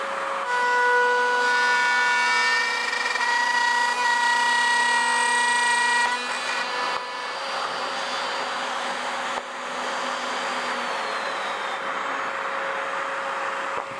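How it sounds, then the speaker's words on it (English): A router cuts a guitar neck pocket into a wooden body, a loud steady high-pitched whine that holds, then dips slightly in pitch and level as the bit works through the wood. "we will route this neck pocket down to final depth"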